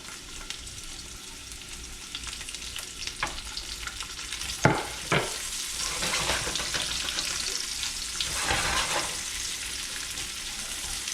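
Onion goes into a hot pan with crispy, partly cooked egg for an omelette, a steady close sizzle that flares with sharp bursts midway, then stirring and scraping.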